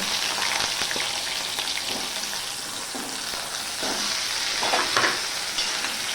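Taro root pieces frying in hot oil, a steady crackling sizzle that stays dense and even throughout, with a few louder pops and bubbling swells near the end.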